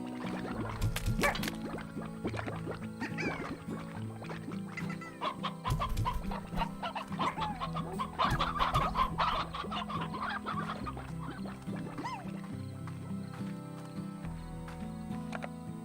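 A briar or stony chicken from the video game Slime Rancher keeps clucking, mixed with other game creature and background sounds. The steady, busy layer runs throughout at moderate loudness, with no speech.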